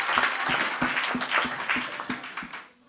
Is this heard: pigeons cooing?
no